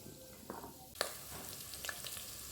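Onions, curry leaves, mustard seeds and cumin frying in hot oil in a clay pot, a steady close sizzle with a few sharper crackles and stirring scrapes, no talking.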